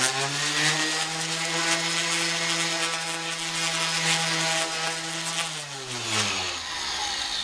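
Power drill boring holes in oak parts for wooden frame clamps, a loud steady motor whine that holds pitch for several seconds, then winds down as the bit slows near the end.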